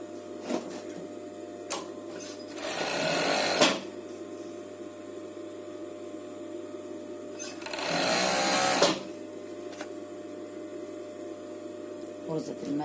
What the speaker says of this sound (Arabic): غرزة الماكنة مش مظبوطة، الشيفون خفيف